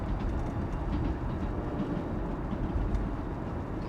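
A train rumbles steadily past at a distance, a low continuous roar with faint rattling that holds its level throughout.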